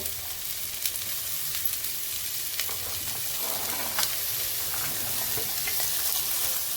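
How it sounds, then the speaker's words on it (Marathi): Mixed vegetables sautéing in a little oil for bhogi bhaji, a dense, continuous hissing sizzle close up with a few faint stirring clicks, no talking. "ह्या सर्व भाज्या एकदाच टाकून मी परतणार"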